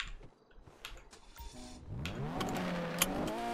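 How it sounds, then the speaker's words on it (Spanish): A car engine revs up, rising steadily in pitch and growing louder into a sustained mid-range drone, with faint background noises before it. "Ahora el ruido que hace este coche"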